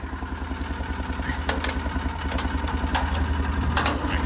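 A Kawasaki Mule 550 side-by-side, a barn find being started after sitting, runs with a steady low rhythmic idle, close by, with light mechanical clatter and a few sharp knocks on top.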